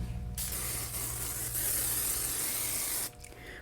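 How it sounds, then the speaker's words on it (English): A steady aerosol spray of leave-in conditioner on a wig hisses in one continuous burst for about three seconds, close by, then cuts off abruptly. "now we're going to spray some of that dual leave-in conditioner"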